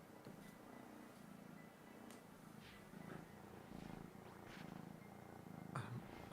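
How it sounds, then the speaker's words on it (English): A foster kitten purring close to the microphone, a soft, steady rumble that runs throughout, quiet and intimate, with a few faint clicks and rustles over it. "I hope you're all enjoying Kitten ASMR on the microphone."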